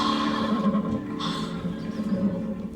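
A horse neighs in a stable, a loud, close whinny that carries on for the whole moment with faint shuffling in the background and no talk.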